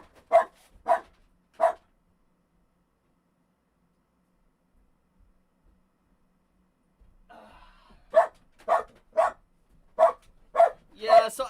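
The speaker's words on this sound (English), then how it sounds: "I have some pretty loud doggies." Loud indoor dogs bark in sharp bursts: three quick barks, a long quiet stretch, then a rapid run of six or seven barks close to the listener.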